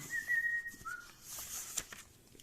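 A high, shrill human whistle imitating an alarm siren, rising and wavering in short bursts, fairly close and alone.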